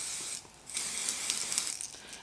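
Sephora setting spray hisses from a pump bottle in a few quick close spritzes, each a short airy burst with faint clicking of the nozzle, no voices present.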